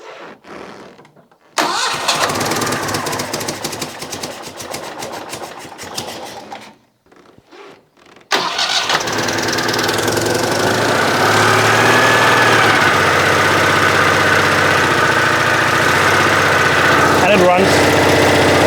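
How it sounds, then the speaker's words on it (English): A Citroën 2CV engine cranks with several short attempts, then catches and settles into a steady, loud, close idle that runs on evenly. "But we can test run the engine now."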